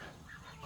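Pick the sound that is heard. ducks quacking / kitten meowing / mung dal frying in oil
ducks quacking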